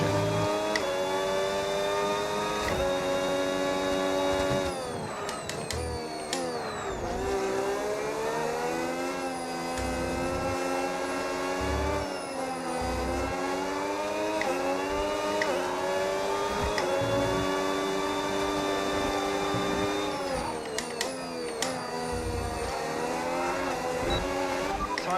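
Racing cars in a video game, engines revving continuously with rising and falling pitch through gear changes, loud and close, with occasional tire squeal and no talking.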